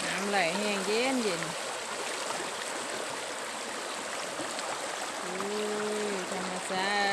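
A stream flows in a natural outdoor setting with a steady, broad rushing wash throughout, while a voice speaks briefly at the start and again near the end.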